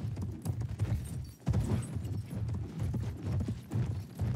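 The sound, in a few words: horse hooves clip-clopping in Battlefield 1 video game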